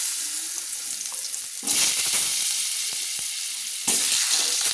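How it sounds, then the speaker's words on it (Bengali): Kohlrabi sizzles loudly in a kadai, a continuous close frying hiss that swells sharply twice as more pieces hit the hot oil or are stirred. "দেখুন আমি যে ওলকপি ধুয়ে রেখেছিলাম সেগুলো আমি কড়াইতে তুলে দিচ্ছি"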